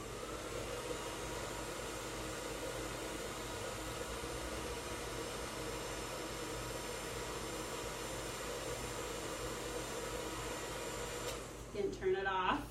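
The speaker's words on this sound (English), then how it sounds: "Turn your blow dryer off." A blow dryer runs steadily at moderate volume with an even airy roar, cutting off near the end as a voice briefly speaks.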